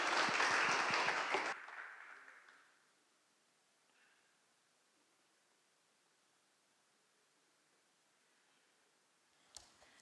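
A church congregation at a Sunday Hindi service claps in welcome, a loud burst of many hands that stops abruptly after about a second and a half, fading into quiet room tone.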